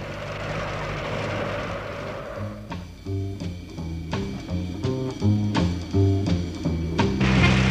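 A cartoon airplane flying over desert sands: a steady propeller engine drone, then a bouncy musical score with plucked, rhythmic notes takes over, with no talking.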